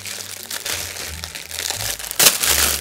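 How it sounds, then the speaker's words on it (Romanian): Plastic bags crinkle and rustle close up as Halloween accessories are unpacked from them, a steady busy crackling that swells into a louder crunch near the end. "Le-am pe toate în pungi, o să le scot înainte"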